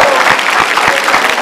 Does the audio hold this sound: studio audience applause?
yes